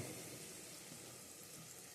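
Water pours into a cooking pot of Gujarati mixed winter vegetable sabji after the oil has risen to the surface, giving a faint, steady rushing stream throughout.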